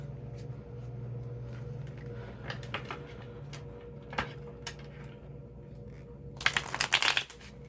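A deck of tarot cards is shuffled in a steady riffle of soft flicks over a low hum, ending in a louder, dense burst of rapid card slaps, no talk.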